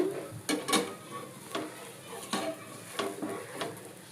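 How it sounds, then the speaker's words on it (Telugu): Onions fry in a pan for an omelette under a low background sizzle, broken by repeated sharp clinks and scrapes of a spatula against the metal at an uneven rhythm. "ఉల్లిపాయలు వేసాను కదా, కొంచెం బాగా వేగాలన్నమాట ఆమ్లెట్ అయితే"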